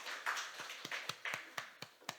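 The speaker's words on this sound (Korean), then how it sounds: "우리 박수 한번 해주시죠." Church congregation members clap in a faint, steady rhythm of about nine sharp, evenly spaced claps, with no talking over them.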